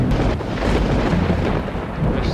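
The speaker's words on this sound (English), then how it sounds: "the thunder is so loud" Heavy thunder in the zombie survival game Project Zomboid, a loud, continuous low rumbling that fills the whole moment with a dense, roaring texture and no voices.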